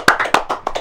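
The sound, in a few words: applause for a participant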